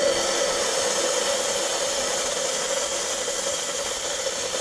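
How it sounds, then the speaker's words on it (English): Steam valve on an Olympia Cremina SL spring-lever espresso machine hissing steadily as it releases pressure, a loud, continuous broadband rush lasting throughout with no talk. "So I'm gonna open the steam valve, and that should release some pressure."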